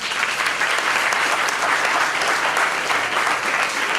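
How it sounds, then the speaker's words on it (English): Audience at a children's symposium clapping, a dense, loud, continuous burst of applause from many hands that holds evenly throughout. "clap yourselves."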